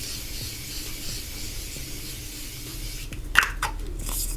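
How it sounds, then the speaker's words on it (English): Morphe setting spray misted onto a face, a short close hiss bursting out after a quiet stretch, followed by faint rustling. "I'm gonna spray my face before I apply eyeliner using the Morphe setting spray."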